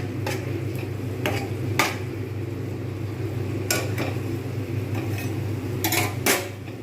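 A metal lid clatters onto a cooking pot holding garlic and ginger paste, several sharp clinks and scrapes spread across a quiet kitchen over a low steady background hum.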